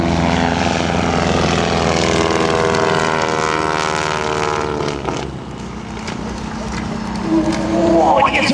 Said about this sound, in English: I want you to listen to the engines that are sputtering